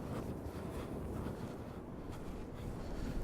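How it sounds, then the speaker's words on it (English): Strong wind on a mountainside buffets the microphone in a steady, loud, unbroken roar that fills the whole stretch without letting up. "Here we go, it's quite windy,"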